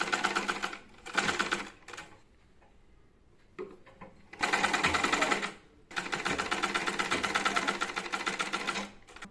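A sewing machine stitches a designer 3-piece set in rapid mechanical bursts, several runs of even stitching broken by short pauses and fabric handling.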